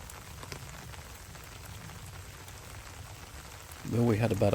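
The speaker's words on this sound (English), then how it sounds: "we had about a hole's worth of respite from the rain. Here it is again, but Ben doesn't care." Rain patters steadily on surfaces at an outdoor golf tournament, a soft continuous hiss, with a voice talking over it near the end.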